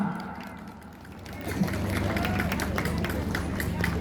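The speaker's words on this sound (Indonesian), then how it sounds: "Beri tepuk tangan yang meriah." A crowd at an outdoor cultural festival breaks into applause after a call to clap, the clapping swelling midway and continuing loud and dense.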